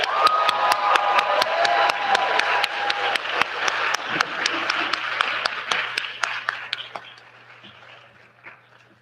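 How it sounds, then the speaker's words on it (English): Applause and scattered cheers for graduates at an M.Ed. hooding ceremony, a crowd clapping loudly and densely, then thinning to a few lingering claps as it fades out, with a low steady hum underneath. "One more round of applause for our graduates."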